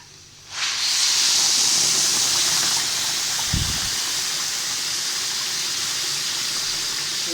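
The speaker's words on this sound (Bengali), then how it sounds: "আমার চালটা ভাজা হয়ে গেছে। এখন দিয়ে দিব গরম পানি।" Hot water hits fried rice in a pan and sets off a sudden loud burst of hissing steam, which holds steady as a broad rushing hiss with one brief clunk partway through.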